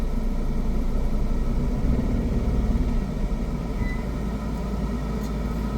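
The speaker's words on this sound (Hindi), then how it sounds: "भाई आप भी तो इंजन का साउंड सुन रहे हो ना" A car engine runs and vibrates while the driver works the clutch on an incline, a steady low rumble with a rough, throbbing texture throughout, close and fairly loud, with no talking.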